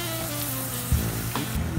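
Onion and pepper, with bay leaves, frying in a pan while being stirred: a steady, close hiss of sizzling with a few soft scrapes and knocks of the spoon, no talking.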